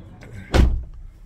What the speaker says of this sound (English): we need to close this door.